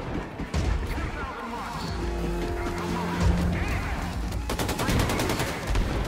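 Gunfire in Wolfenstein II: The Freedom Chronicles DLC, dense game combat with crashes and rapid bursts near the end, loud and continuous against a busy background of game sound, with a voice speaking over it.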